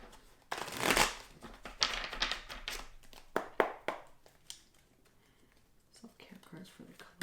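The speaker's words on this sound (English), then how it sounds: "I'm going to pull a self-care card for the collective." Tarot self-care cards are shuffled by hand in several close, papery riffling bursts, loud at first, then thinning to lighter flicks and taps toward the end.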